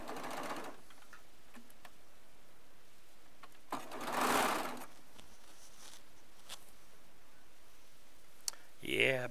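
Baby Lock Triumph serger stitching fabric pieces, a soft rapid mechanical whir with clicking in short bursts and pauses, close by, with a person talking over it.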